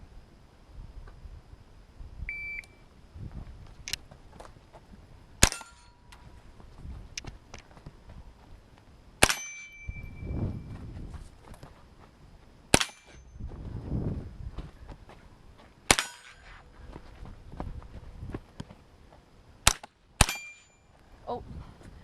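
Sharp pistol shots ring out one at a time at a farm shooting range, about eight loud cracks spaced several seconds apart, with faint movement and rustling between them.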